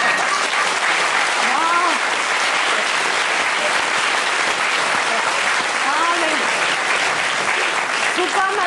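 Sustained, loud audience applause at a French comedy stage show fills the whole stretch as a dense, steady wash of clapping, with faint vocal cheers rising above it now and then.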